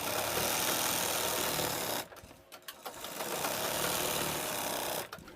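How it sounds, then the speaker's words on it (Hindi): A sewing machine runs in steady bursts while stitching a Pakistani salwar, with a brief pause in the middle before the motor picks up again and then stops near the end. Nobody speaks. "बराबर करके और सिलाई लगा दें।"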